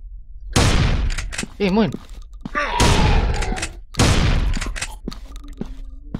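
Gunshots ring out in a horror video game, several sharp, loud bangs spaced a second or so apart, with people talking and groaning between them.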